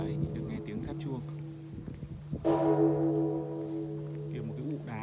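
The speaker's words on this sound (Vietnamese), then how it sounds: "Đấy, được nghe tiếng tháp chuông." Church bells ring out from the bell tower of Phat Diem stone cathedral in Vietnam, a sustained resonant tolling that swells loud midway through, with people talking before and over the ringing.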